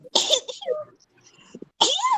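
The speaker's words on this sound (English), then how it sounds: "That was a cute sneeze" A couple of sharp, noisy bursts like sneezes, one near the start and another near the end, separated by faint quieter sounds.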